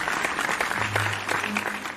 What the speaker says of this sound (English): let's give a round of applause for Caillou